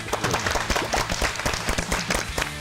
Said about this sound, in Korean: 일단 참여해주신 분들께 박수 먼저 보내드립니다.